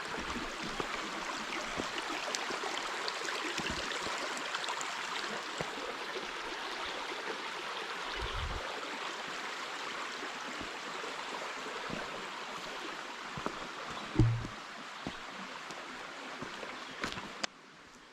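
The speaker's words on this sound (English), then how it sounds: "This is one of the creeks that's going to form to make the Rapidan River." A small mountain creek that feeds the Rapidan River in Shenandoah National Park rushes over rocks in a steady, broad, close wash of water, with a few faint knocks and footstep-like thuds.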